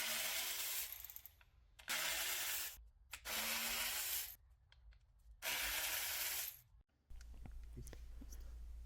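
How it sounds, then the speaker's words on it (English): Ratcheting on intake manifold bolts with a T30 Torx bit on a Mercedes-Benz CLK: several bursts of rapid clicking, each about a second long, separated by short pauses, close up with a steady low hum underneath. "you're going to need a T30 to remove these bolts that sit on top of the intake manifold"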